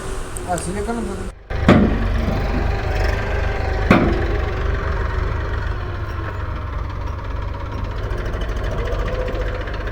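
A tractor engine idles steadily with a low, continuous rumble while it is being loaded, with a couple of sharp knocks and clatters from the loading breaking through.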